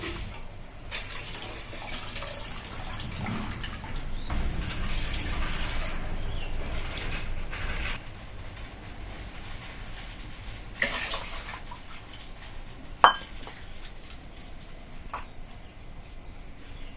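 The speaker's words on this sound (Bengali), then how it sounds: "এবার শুটকি মাছগুলোকে যে ভিজিয়ে রেখেছিলাম গরম জলে, ওগুলো একটু পরিষ্কার করে নেব, ধুয়ে পরিষ্কার করে নেব" Dried fish that has soaked in hot water is rinsed under running water, a steady splashing flow with a few bumps and a sharp knock, close by with no talk.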